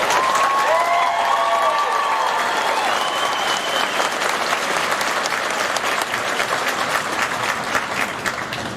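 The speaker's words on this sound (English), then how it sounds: "So let's give them a big round of applause." A graduation audience breaks into loud, sustained applause that fills the hall for about nine seconds, with faint cheering near the start.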